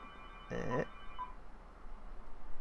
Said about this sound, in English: Apologies for the phone ringing.